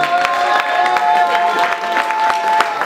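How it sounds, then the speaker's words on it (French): Dense crowd applause at an open-mic rap cypher in Marseille, with scattered claps and some cheering, continuous and moderately loud throughout. "On peut applaudir aussi Kado et Kazano"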